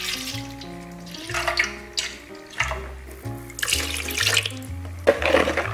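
Oat milk being poured into a mixing bowl while baking carrot bread rolls, a close liquid splash and trickle that rises and falls in several short surges, with soft clinks in between and no speech.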